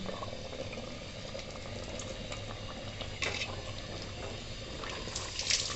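Chicken curry simmering in a clay pot (mati handi), giving a steady close bubbling and hissing wash with a few brief louder pops and crackles, no voices.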